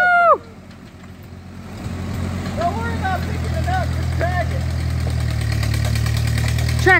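A tractor engine runs steadily at a low rumble while dragging a cedar log during timber work, continuous and fairly close, with people calling out over it.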